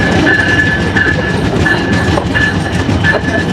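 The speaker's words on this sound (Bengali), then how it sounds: "লোকোমোটিভের সাউন্ডটা বেশ ভালো লাগে। এই মুহূর্তে আমরা প্রবেশ করছি নড়াইল জেলার নড়াইল রেলওয়ে স্টেশনে।" The Jahanabad Express locomotive and carriages roll loudly into Narail railway station, with a steady rumble, rhythmic clatter and a repeating high tone throughout.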